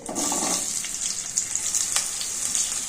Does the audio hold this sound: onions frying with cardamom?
yes